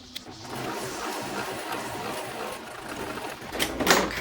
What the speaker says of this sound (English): I'm gonna go ahead and baste this in place